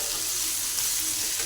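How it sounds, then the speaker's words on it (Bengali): Water runs steadily into a pan of frying potato and pointed gourd curry, a continuous close splashing pour with no pause, heard alone without voices. "এবার একটু দিয়ে দেব জল।"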